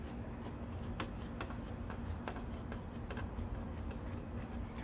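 Scissors snip through body-work material for a diffuser on a 1969 Corvette C3, giving a steady series of short, sharp cuts up close and fairly quiet, with no talking.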